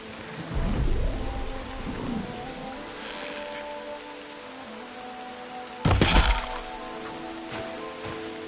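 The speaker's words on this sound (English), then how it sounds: "Why not throw in some rain?" Rain falls in the video game Fallout as a soft steady patter under a tonal backdrop, broken by a sharp thunder crack midway, with no talking.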